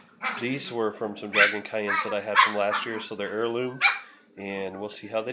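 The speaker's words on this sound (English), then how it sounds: "And you can hear the dogs in the background." Dogs bark in the background of a home greenhouse garden while someone speaks steadily in the foreground, the barks mostly masked under his talk.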